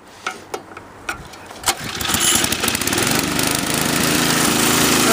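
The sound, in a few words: Toro 521 snowblower engine starting up with test carburetor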